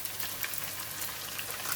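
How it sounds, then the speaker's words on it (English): Anchovies (ikan bilis) sizzling in very hot oil in a pan, a steady faint crackling hiss like light rain with no talking. "So now we're going to put in the anchovy. It is very hot oil."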